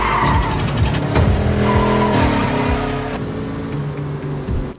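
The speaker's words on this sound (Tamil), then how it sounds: "ட்ரிஃப்ட் அடிச்சுக்கிட்டு அங்கே எங்கேன்னு போயிட்டு இந்த காரை எவ்வளோ வேகமாக போக முடியுமோ போக ஆரம்பிச்சிட்டோம்" A car drifts at high speed through traffic in the video game GTA 4, tires squealing and skidding steadily over a loud, close engine roar, with no talk.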